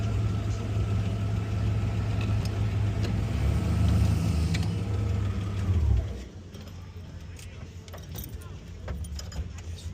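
A 1940 stock car engine runs with a deep, rough low rumble that holds steady and loud, then cuts off abruptly partway through, leaving quieter ambient noise and faint voices nearby.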